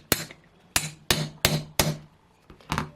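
A model airplane engine's crankshaft bearing, a Boca Magnum XL61RFS part, is driven into place with a tool, giving six sharp metallic taps at uneven intervals, close and loud with ringing decay between strikes.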